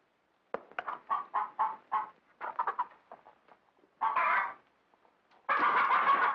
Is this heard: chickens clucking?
yes